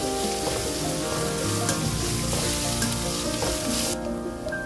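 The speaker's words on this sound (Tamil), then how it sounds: "இந்த எண்ணெயிலேயே பீக்கங்காய் தோல் வந்து நல்லா சாஃப்ட் ஆகிற வரைக்கும் நல்லா நம்ம இதிலேயே வதக்கிக்கலாம்." Ridge gourd peel sautés in oil in a pan, a loud continuous close-up sizzle with light stirring scrapes that drops off abruptly near the end.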